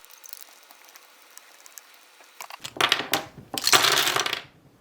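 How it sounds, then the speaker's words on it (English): The screw of an MGC Square-1 puzzle is unscrewed up close, giving soft scraping and rattling that builds into denser clicking and grinding bursts before stopping. "just unscrew the screw"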